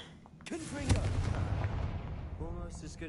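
A blasting spell explosion in a wizard video game, a loud booming burst with a rumbling tail, following a shouted spell cast, with other game voices heard around it.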